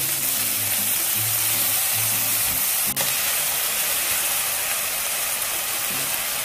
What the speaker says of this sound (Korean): 우삼겹에 소금 약간, 후추, 그리고 맛술 한 큰술을 넣고 볶아주세요.